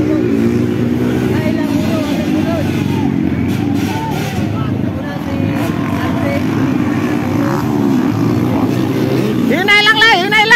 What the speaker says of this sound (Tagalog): Gandar na yung motor.